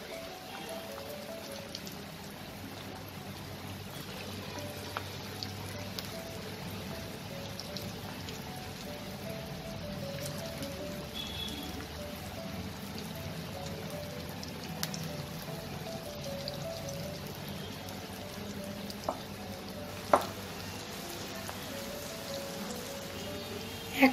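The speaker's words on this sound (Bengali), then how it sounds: "এবার এই তেলে আমি বাঁধাকপিগুলোকে ছেড়ে দেবো" Cabbage pakoras fry in hot oil, a quiet, steady crackle and sizzle with scattered small pops and a sharper spit near the end, no voices.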